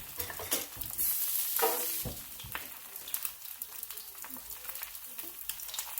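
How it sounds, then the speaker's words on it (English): Eggs cooking over easy on a small griddle, a steady crackling sizzle with brief louder bursts and scraping in the first seconds, then a quieter continuous fry close by with no talk. "how easy is it to throw them on this little griddle here and get them going?"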